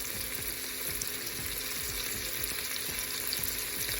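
About half a cup of chopped onions sizzles in a pan over medium heat, a constant dense frying crackle with faint scraping stirs underneath, close and even.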